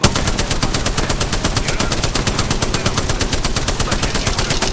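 Rapid, sustained automatic gunfire rattles loudly and without a break in an Apex Legends match, each shot landing in a fast, even rhythm.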